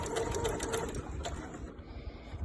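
A sewing machine stitches quilting through layered fabric for a nursing pad, with a close, rapid whirring hum and ticking needle strokes that run steadily then stop partway through.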